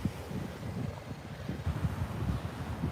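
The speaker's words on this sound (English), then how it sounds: "Sorry it's super windy here" Low rumbling wind at a beach buffeting the microphone, a constant gusty roar with no voices.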